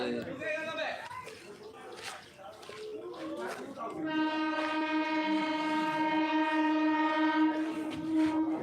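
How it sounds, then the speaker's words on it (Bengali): A train pulling into Masagram railway station sounds a long, loud, steady horn over rumbling carriages, following a stretch of nearby talking on the platform. "ট্রেন ঢুকছে এইবার"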